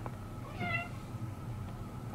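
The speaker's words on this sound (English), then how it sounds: "That's my cat." A cat gives a single short, clear meow, fairly close, against a quiet indoor hum.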